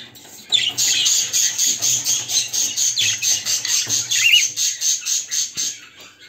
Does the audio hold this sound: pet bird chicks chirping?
yes